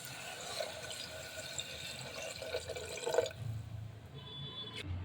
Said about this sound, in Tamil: சரி, இப்போ நம்ம தண்ணி ஊற்றிக்கலாம்